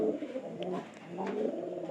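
A domestic pigeon cooing close by, soft throaty low coos repeating in a rolling rhythm over a couple of seconds, with no voices.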